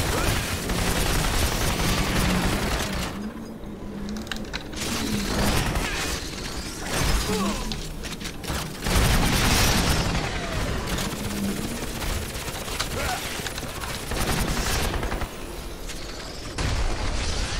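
Continuous chaotic combat in the video game Crysis, with rapid gunfire, booms and explosions layered densely over a noisy background, loud throughout.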